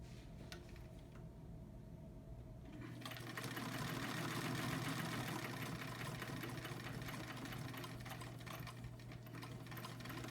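A fully overhauled vintage Brother 190 Flairmatic sewing machine runs at a steady hum with a rapid needle clatter. After a quieter start it speeds up and holds an even, continuous whir with no talking.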